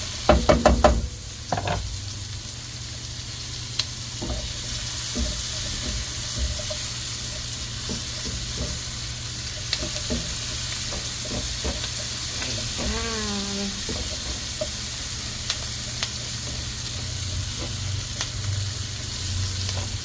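Onions sautéing in butter over garlic for a Filipino chopsuey, a steady close sizzle hissing throughout, with a few utensil knocks and stirring scrapes near the start and a faint whistling tone partway through.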